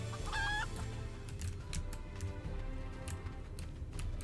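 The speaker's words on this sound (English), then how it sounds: "Look at the chickens!" Chickens in the Final Fantasy XIV game, a few short clucks and a brief crow-like call over a quiet ambient background, faint and sparse.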